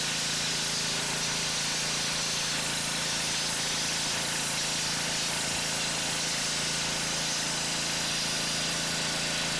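A Ryobi 3,200 PSI battery-start pressure washer spraying: a steady, loud hiss of water jet over a constant engine drone, unbroken throughout.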